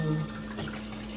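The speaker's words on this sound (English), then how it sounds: "fill this up with some nice cold water" A kitchen tap runs cold water into a bowl, a steady close hiss of flowing water through a short stretch with no talking.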